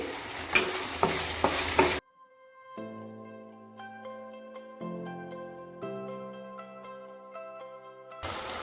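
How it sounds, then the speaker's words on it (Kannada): Chopped capsicum with salt frying in a pan, stirred: a loud burst of sizzling and scraping at the start, then background music alone for several seconds, and the frying noise returns briefly at the end; no talk. "ಹಾಕಾದ್ಮೇಲೆ ಚೆನ್ನಾಗಿ ಫ್ರೈನ ಮಾಡ್ಕೊಳ್ಳಿ"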